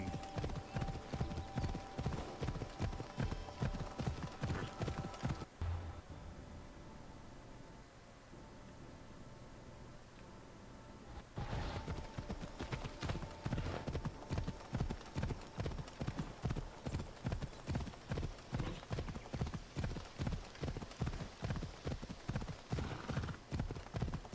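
Galloping horse hooves in Assassin's Creed Odyssey, a fast steady clip-clop rhythm pounding close and clear, breaking off for a few seconds of quieter ambience before the hoofbeats pick up again.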